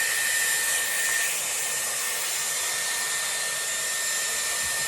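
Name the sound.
Dyson Airwrap hair styler blow-drying hair with round brush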